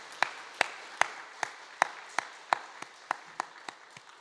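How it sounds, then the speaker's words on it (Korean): A church congregation claps during a Sunday worship service in eleven evenly spaced, sharp beats, moderately loud, in unison. "우리 하나님께 영광의 박수를 올려드립니다."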